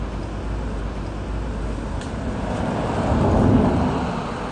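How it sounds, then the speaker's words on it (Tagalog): Rain falls in a steady hiss with a low rumble underneath, rising to a louder swell near the end, with no voices heard. "It's raining already."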